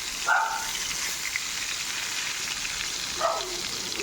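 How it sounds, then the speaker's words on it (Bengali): Eggplant slices fry in hot oil in a kadai with a soft, continuous sizzle and crackle, broken by two brief clinks of a utensil near the start and end. "বেগুনটা এখন ভাজা করবো"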